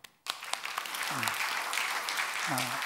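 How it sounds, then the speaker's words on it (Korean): Congregation applauding during a Korean Sunday worship service, a steady broadband clatter of many hands filling the room after a short gap, with a couple of brief voices rising over it. "박수"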